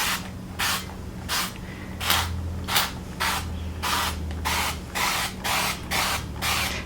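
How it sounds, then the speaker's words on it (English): Olive oil sprays onto a casserole dish in about ten short, evenly spaced hisses, each a quick puff from the nozzle, heard close and alone over a faint background hum. "we're going to do a light greasing of the casserole dish."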